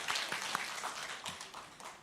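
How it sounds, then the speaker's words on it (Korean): Church congregation at a Sunday service applauding to welcome a newly registered member, a moderate, even wash of many hands clapping heard from a distance, fading slightly toward the end with no voices. "우리 박수로 환영해 주시기 바랍니다"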